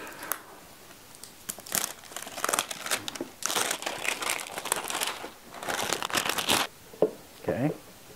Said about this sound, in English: Cut the cellophane off.